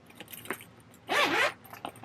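A zipper on a fabric Christmas-themed book bag pulls open in one quick, close rasping run lasting about half a second, with faint handling noises before and after.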